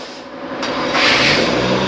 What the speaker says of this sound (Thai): ทีมงานสตาร์ทเครื่องยนต์